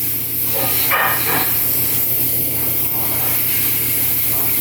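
An airbrush hisses steadily while spraying paint onto a sculpted quarter-scale Thor figure, a continuous close, even spray with faint background noise and no talk.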